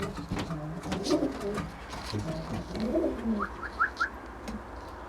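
Tame pigeons or doves coo in low, throaty calls at close range, with a few higher chirps and soft rustling around them.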